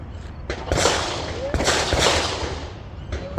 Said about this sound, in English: So I'm going to start shooting with the same sequence.